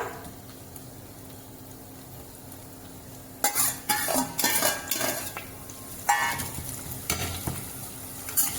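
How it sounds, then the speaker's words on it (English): Onions frying with cinnamon and cloves powder in a pan for a chicken pulao, with bursts of stirring, utensil clatter and sizzling that start after a quiet stretch and come in close, uneven clusters. "We are frying our onions."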